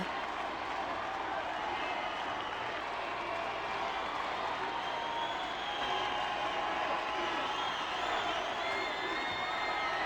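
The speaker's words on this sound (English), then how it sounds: "This applause isn't for me." Applause and cheering from a crowd in the video game Reverse: 1999 form a continuous, dense wash that stays steady and loud throughout, with occasional whoops rising from the mass of clapping.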